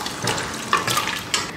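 Cooked mutton and its cooking water poured into a gravy pan: a short, close splashing pour with a couple of sharper liquid splashes over a steady wet hiss.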